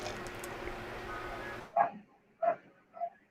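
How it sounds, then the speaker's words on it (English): A neighbor's dog gives three short, spaced barks, faint and somewhat distant, after a noisy stretch of background clatter. "sometimes you're gonna hear my neighbor's dog barking"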